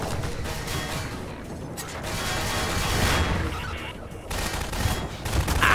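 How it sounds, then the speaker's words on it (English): Gunfire aimed at the player in the video game Half-Life 2: Episode 1, dense mechanical shots and bursts running continuously with no pauses, swelling louder toward the end over a busy in-game background. "Ah, I'm getting shot, bro!"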